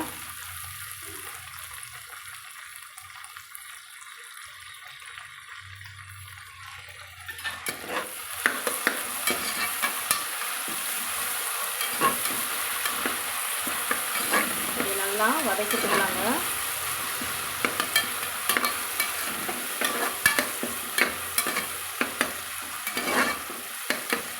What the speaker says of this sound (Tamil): இந்த நெய்யில் எல்லாம் வதங்குறது அரோமா நல்லா இருக்குங்க